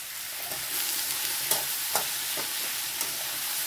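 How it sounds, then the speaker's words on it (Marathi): Onion with garlic and ginger sautéing in oil in a kadhai, a continuous close hiss of frying with a few soft scrapes of a stirring spoon and no voices. "कांदा आपण छान परतून घेऊया।"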